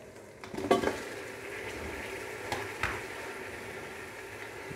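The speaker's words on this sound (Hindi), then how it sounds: "5 से 10 मिनट तक हम अब इसको भून लेंगे तेल के अंदर, कुकिंग ऑयल के अंदर जी।" Mutton and tomatoes frying in cooking oil in a karahi give a soft, steady sizzle, with a few light clinks of a utensil against the pan near the start and middle. No voices.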